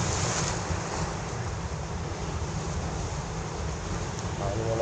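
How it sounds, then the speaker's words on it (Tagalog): Strong sea waves crashing at a shore, a constant roaring wash of surf with wind buffeting the microphone, loud and continuous throughout. "Napakalakas ng alon."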